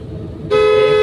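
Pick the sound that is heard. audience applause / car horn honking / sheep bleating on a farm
car horn honking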